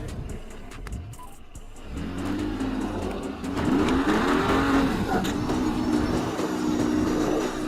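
A Mercedes GLE SUV with a 3-liter turbo petrol engine works over an off-road trail obstacle, its engine note rising and holding loud and close after a quieter start.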